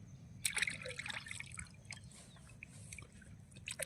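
Water trickling and dripping outdoors in a mango orchard while teeth are brushed, light splashes and drips close by, uneven and steady, no talk.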